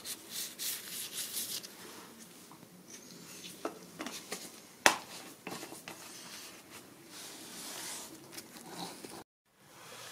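Rubbing and wiping at the oil level sensor seat on a 2006 Mercedes C200, close scrubbing strokes with a sharp click midway and a brief silence near the end.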